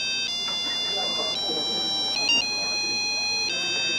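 A cell phone ringtone plays a bright electronic melody of repeating tones, loud and close. Voices talk quietly underneath.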